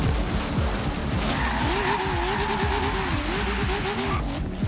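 A Toyota AE86 twincam drifts in the video game Forza Horizon 3, its engine droning and pulsing as the tires let out a long, wavering squeal that rises and holds, loud and close.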